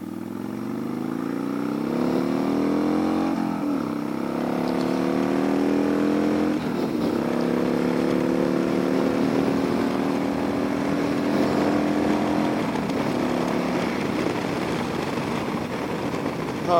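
A motorcycle engine runs steadily while riding at sunset, a loud continuous drone with rising and falling tones as it accelerates and shifts, close and dominant throughout.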